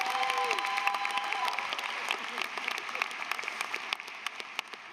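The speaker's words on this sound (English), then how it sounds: "go ahead and clap" Applause from the audience at a civil and environmental engineering graduation ceremony, a steady wash of many hands clapping at moderate volume, with a brief tonal sound early on and faint crowd murmur beneath.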